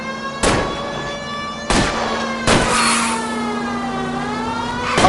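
A car engine revs and strains at close range during a high-speed chase in the video game L.A. Noire, its steady mid-pitched drone broken by several sharp bangs and impacts.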